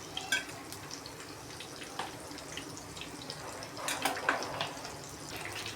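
Biryani masala spices frying in hot oil in a clay pot, a faint steady crackle and sizzle with scattered small pops and a brief stirring scrape near the end.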